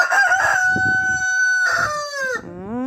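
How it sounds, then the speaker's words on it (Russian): A rooster crows loudly and close, a long drawn-out call followed by a second rising crow, with faint clucking underneath. "Кукарекаете"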